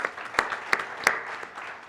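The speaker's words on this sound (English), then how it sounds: "So let's give him a big round of applause." Audience at a management convention gives a brief round of applause, a dense wash of clapping with a few sharper claps standing out near the front.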